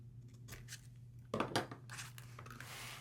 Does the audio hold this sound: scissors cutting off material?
yes